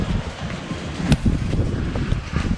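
Wind blows outdoors during rainy weather, gusting against the microphone as a rough, uneven rumble with a few sharper buffets, steady throughout.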